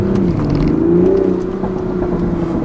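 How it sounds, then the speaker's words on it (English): A 2020 Toyota GR Supra's straight-six exhaust revs steadily and close by, a smooth sustained engine note that rises slightly and holds without any talk. "once you get into the RPMs, though, it makes that smooth, straight six noise, and it does sound really good"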